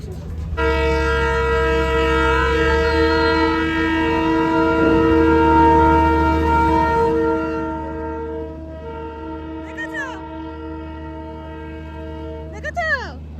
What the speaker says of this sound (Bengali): টয় ট্রেন আসছে